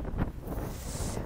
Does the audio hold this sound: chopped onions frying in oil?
no